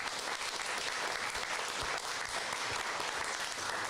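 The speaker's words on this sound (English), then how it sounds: "Let's give them another round of applause." A dense, sustained round of audience applause for a street art festival artist panel, steady and even throughout at moderate distance, with no talking over it.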